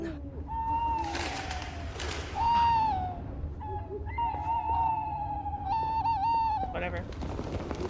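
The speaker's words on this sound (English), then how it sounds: "Owls eat the food." Owls in a Harry Potter video game give a series of clear, wavering hoots at moderate distance, repeated several times under ongoing game noise and a talking voice.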